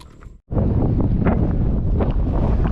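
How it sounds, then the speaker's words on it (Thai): Strong gusting wind of an approaching storm buffets the microphone on a boat while fishing, a loud steady roar that starts abruptly after a brief quiet moment. "โอ้พายุมาแล้วครับ"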